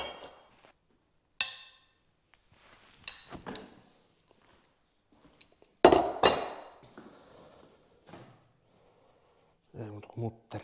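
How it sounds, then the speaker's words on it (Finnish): Metal tools working nuts off a Fordson Dexta tractor engine during repair, a few sharp clinks and clanks spaced irregularly with quiet gaps, close by, with someone talking between them. "Ei muuta kuin mutterit pois."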